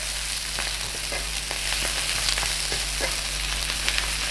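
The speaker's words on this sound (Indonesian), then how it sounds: "cuman ditumis aja biar dia matang ya" Spinach sautés in a pan with no salt or pepper, giving a steady, close sizzle with light scraping and stirring taps throughout and no voices.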